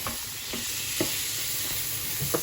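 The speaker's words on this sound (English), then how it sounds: "So give that a nice little stir" Red lentil dal stirred in a pan on the stove, with a soft continuous sizzle and several scraping strokes of the spoon at a steady rhythm, close and fairly loud, with no voices.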